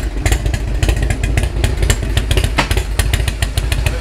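A 1991 Harley-Davidson Ultra Classic Electra Glide running steadily nearby, its engine loud and rumbling with a continuous clattering beat throughout as it is shifted into first gear.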